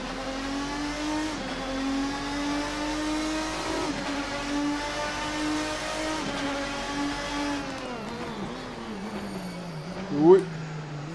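A GT race car from a mod pack in Assetto Corsa laps the track, its engine droning steadily with rising and falling revs through gear changes, and a brief sharp squeal near the end; someone talks over it.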